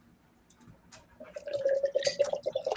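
Double Chocolate Fudgy Brownie Stout beer is poured into a glass, a brief liquid gurgle and splash that builds over a couple of seconds after a few faint clicks, close and fairly quiet with no talk.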